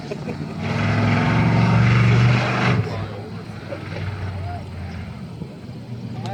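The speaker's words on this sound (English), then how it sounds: "here's another ceremonial flyover from the Air Force Base" A ceremonial military aircraft flyover from an Air Force Base passes over a raceway during an 8-cylinder class heat race, a loud propeller roar building and peaking for a few seconds before fading into the crowd and track noise as a commentator talks.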